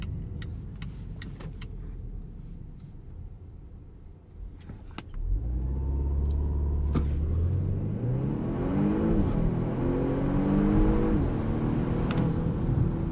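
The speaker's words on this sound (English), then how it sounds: "We'll do a 0 to 60 and then a 60 to 0 braking test." A 2020 Volvo V60 T8 Polestar plug-in hybrid wagon in Sport mode, idling cabin hum that swells into a strong engine surge as the car launches from 0 to 60, rising through gear shifts with a steady loud drone.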